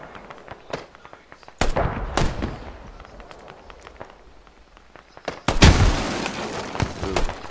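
Gunfire in a squad-based shooter video game, a string of sharp, fairly close bursts and cracks with two louder blasts, spaced irregularly.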